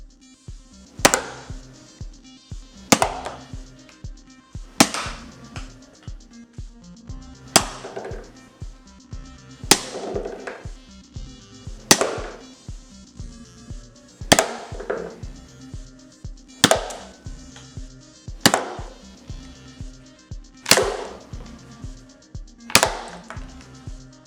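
A Tri Blaster toy dart blaster fires again and again, about ten sharp snapping shots spaced a couple of seconds apart, each followed by a short rattle of handling, loud and close with no talking.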